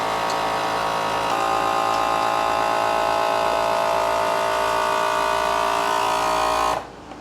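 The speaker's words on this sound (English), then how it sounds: "I'm gonna vacuum seal this" A vacuum sealer runs steadily on a bag of garden vegetables, a continuous motor hum with pump whine lasting several seconds before cutting off abruptly near the end.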